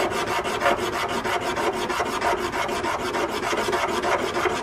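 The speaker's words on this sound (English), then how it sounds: "I just got done sanding this thing" Hand sanding of a Honda Civic Type R FD2 shift knob makes a steady, rapid rasp of close back-and-forth strokes. The scraping runs continuously and loud, with no talking.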